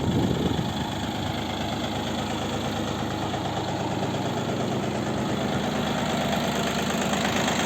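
A small turbo diesel walk-behind tractor engine runs steadily at close range, a continuous mid-pitched drone with a faint rhythmic knock and no pauses.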